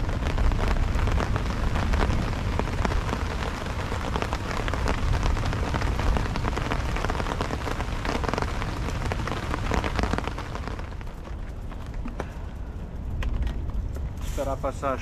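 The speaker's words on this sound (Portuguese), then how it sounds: "Vou esperar passar a chuva." Heavy rain pours steadily onto a surface at a campsite during a storm, with a low storm rumble beneath, easing slightly near the end as a brief clatter appears.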